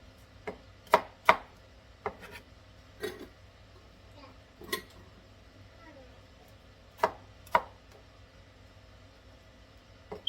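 A knife chops through raw potatoes on a cutting board, cutting them into thirds: about a dozen sharp, distinct thunks come at irregular intervals, close and clear over a quiet background.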